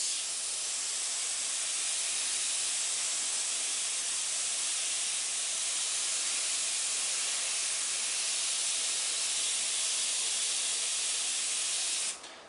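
A Micron airbrush sprays thinned paint, reduced about 200%, over silver on chrome emblems, giving a steady, even hiss at close range that runs unbroken for about twelve seconds, then cuts off.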